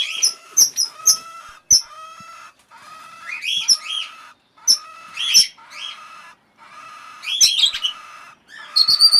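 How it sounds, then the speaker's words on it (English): Red-rumped parrot chicks in a nest box squawk in repeated shrill bursts, bright harsh calls coming in clusters with short gaps, fairly close and loud, no talking. "Other two in the box, squawking away."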